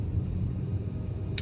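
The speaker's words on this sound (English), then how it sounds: "And that was a motorcycle." A motorcycle passes a car in commuter traffic, a low steady engine rumble close by that holds for a second or so, then ends in a brief burst of hiss.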